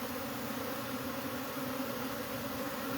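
Honeybees at a queenless hive built into a cable box fill the air with a dense, steady buzz, a continuous swarm drone that holds even and close throughout with no talk over it.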